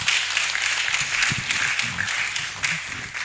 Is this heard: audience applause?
yes